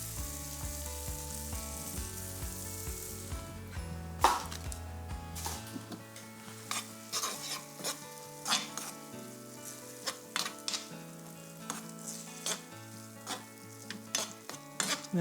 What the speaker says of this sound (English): I just want to heat this bean mixture through